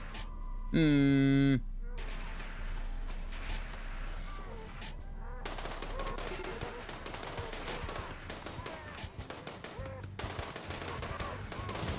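Defensive turrets fire rapid bursts of gunfire at attacking raiders in the colony game Rimworld, with steady crackling shots layered over game effects and music while someone talks throughout.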